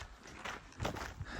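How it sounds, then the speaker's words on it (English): Two packhorses carrying a resupply walk past on a well-maintained mountain trail, their hooves striking the ground in an uneven clip-clop of a few close, soft thuds over quiet outdoor air. "2 horses just passed us with a resupply"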